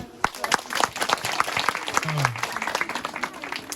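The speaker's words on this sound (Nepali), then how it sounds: "धन्यवाद ताली बजाइदिउँ" Wedding guests at a Christian wedding break into a burst of hand clapping, a dense, fairly close patter of many hands lasting a few seconds, with voices murmuring faintly underneath.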